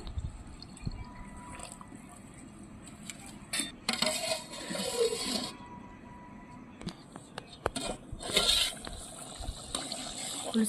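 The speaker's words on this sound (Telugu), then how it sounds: "ఇంకొన్ని వాటర్ యాడ్ చేస్తున్నానండి" Water is poured into a dry fish curry with tamarind juice cooking in a pot on a wood-fired stove. Short splashing pours come in bursts, with scattered clinks of the vessel against a quiet background.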